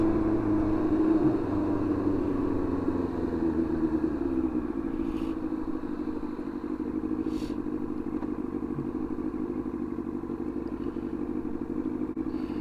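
A Yamaha R1 sport motorcycle with freshly done carburettors runs while riding, giving a steady droning engine note with a low rumble and wind noise that holds even and close throughout, with no talking.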